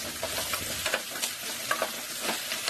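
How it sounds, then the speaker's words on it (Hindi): Carrots frying in desi ghee in a pressure cooker over a medium-to-low flame for gajar ka halwa, a steady close sizzle with intermittent stirring scrapes and no talking. "गरम करके इसमें गाजर को ऐड करेंगे और अब इन्हें मीडियम टू लो फ्लेम में भून लेंगे 2 मिनट के लिए।"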